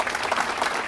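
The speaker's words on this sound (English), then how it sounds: "one more round of applause for Josh" An audience applauds a speaker at a leadership talk, with a brief burst of dense, even clapping from many hands.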